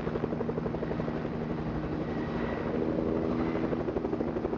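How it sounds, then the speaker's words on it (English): A helicopter in the video game Fortnite drones steadily with a rapid rotor chop, a continuous mid-level whir that holds for a few seconds without voices. "Oh, that's a helicopter."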